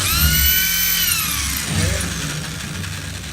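Power drill boring the first hole into a house wall near the ceiling, a loud steady whine that shifts pitch and strains partway through as the bit hits something hard.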